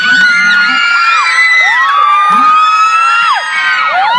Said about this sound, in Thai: ขอเสียงปรบมือให้กับสามหนุ่มสามพระเอกอันเป็นที่รัก